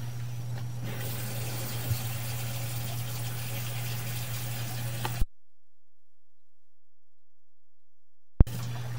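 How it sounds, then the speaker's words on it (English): Water runs steadily from a sink tap with a constant low hum underneath for about five seconds, then cuts out abruptly to silence before a short clunk. "We're going to go ahead and run some water."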